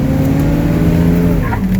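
An old Chevy truck accelerating hard with tires chirping briefly, heavy engine drone and low rumble dominating throughout, loud and close with a short higher squeal near the end.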